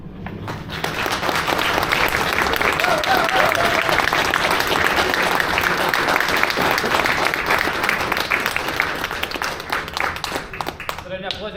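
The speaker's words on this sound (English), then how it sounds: "Round of applause again there for the guys." Theatre audience at a scratch night applauding performers, a full, dense burst of clapping that swells quickly, holds steady for several seconds, then tapers off near the end.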